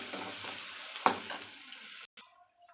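Chopped onions sauté in a pan with turmeric and asafoetida, giving a steady close sizzle broken by one sharp utensil clink. The sizzle then drops out briefly and returns more quietly.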